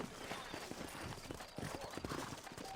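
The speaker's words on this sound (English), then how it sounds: "You ain't gonna find sturdier horses than these in all of New Ulster." Horses' hooves clip-clop steadily on a dirt street in the Western video game Red Dead Redemption, a fairly quiet, even walking rhythm, with speech heard over it.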